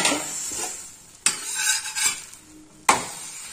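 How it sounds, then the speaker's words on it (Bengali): A healthy breakfast pancake fries on its second side in a pan, with a steady sizzle and hiss broken by two sharp spatula or pan knocks. "এবার এভাবে ওই উল্টো পিঠটাও ভালো করে একটু ভেজে নেব।"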